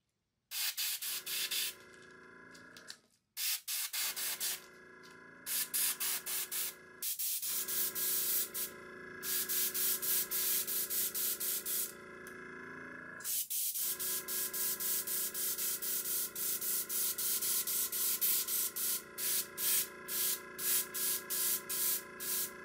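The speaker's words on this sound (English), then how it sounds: "Rather than brush or roll on the gold paint, I used my airbrush kit to airbrush the stencil on." Airbrush spraying gold paint through a stencil: a steady close hiss in long bursts separated by short pauses, then rapid pulsing sprays toward the end, loud and alone.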